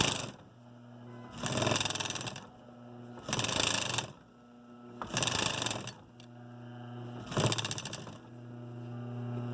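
A sewing machine stitching across folded fabric corners runs in four loud bursts of rapid mechanical whirring, each about a second long, separated by a low steady motor hum and short pauses, close up.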